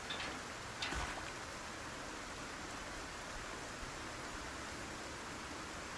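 Steady rain hisses in a zombie survival video game, a soft, even wash of noise with a faint brief tick near the start and no talking.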